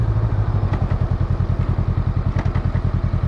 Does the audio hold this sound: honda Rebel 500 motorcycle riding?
yes